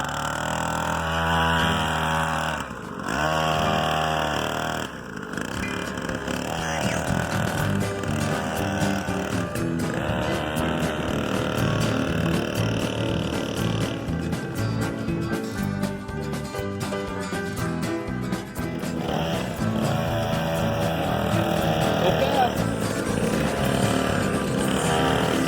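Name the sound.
child's dirt bike engine running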